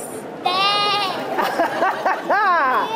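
Children's voices imitate sheep bleating in a group storytelling session, several wavering high "baa" calls in a row, close and loud, with a brief pause between bursts.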